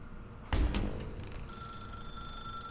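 A desk telephone rings in a quiet room in The Stanley Parable, a thump followed by a steady electronic ring tone that sustains through the rest, moderately loud and near with no talk.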